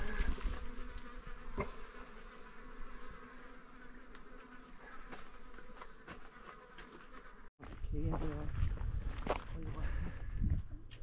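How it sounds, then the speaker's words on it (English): Bees buzz close by in a steady drone at an old mine engine house in Burra, South Australia, with a brief dropout before a louder burst of buzzing and rustling near the microphone. "Oh, fucking bees."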